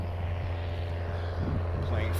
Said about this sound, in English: Plane flying over me.